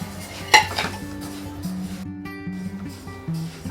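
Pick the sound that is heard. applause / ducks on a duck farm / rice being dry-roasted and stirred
rice being dry-roasted and stirred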